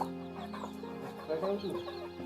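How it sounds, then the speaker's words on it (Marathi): A mother hen with her chicks clucks softly nearby in a brief, faint run of low clucks, with light peeps and background murmur around them. "ती कोंबडी गेलेली तिथे खाली आहे ती बघा, ती पिल्लवाली कोंबडी"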